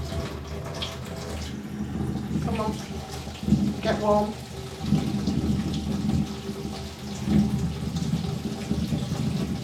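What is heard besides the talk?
hand hot water running into a cleaned sink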